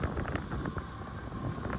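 Cold wind gusting over an open hilltop parking area near a temple, a steady broadband rush of buffeting air against the microphone, close and continuous with no voices.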